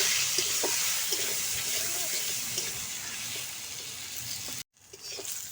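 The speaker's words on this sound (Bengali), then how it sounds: "একটু হলুদ দিয়ে দিচ্ছি একটু লবণ দিয়ে দিচ্ছি দিয়ে সিমটা ভালো করে ভেজে নেব" Flat beans frying in oil with turmeric and salt give a steady, broad sizzle with a few faint utensil taps, cut off by a brief silence near the end before the sizzle resumes.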